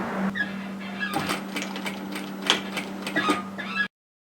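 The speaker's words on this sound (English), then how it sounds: "Now the best place to start the sewing from is the bottom edge at the side seam." A sewing machine stitching the side seam of a varsity bomber jacket, a steady close mechanical whir with light ticks running for a few seconds before stopping abruptly.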